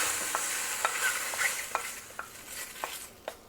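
Marinated mushrooms go into a hot pan and sizzle in a steady hiss, with a handful of sharp stirring scrapes and clicks spaced across a few seconds, close and fairly loud, no talking.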